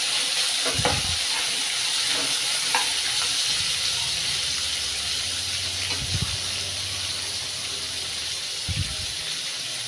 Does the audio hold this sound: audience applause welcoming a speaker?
no